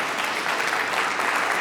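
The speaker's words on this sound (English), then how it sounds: "So can you give our government sponsors a round of applause?" An audience claps steadily and fairly loudly for government sponsors at a carbon-to-value initiative kickoff, a dense, even wash of applause throughout.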